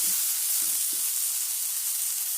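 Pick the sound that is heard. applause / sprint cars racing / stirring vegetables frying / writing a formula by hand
stirring vegetables frying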